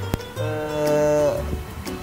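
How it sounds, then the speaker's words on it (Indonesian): One long, loud cow moo, a close drawn-out bellow that swells and fades, with a sharp knock just before it and a few thuds after, no talking. "Nah, sapi selain Grandong itu berapa ekor yang sama mama itu tadi?"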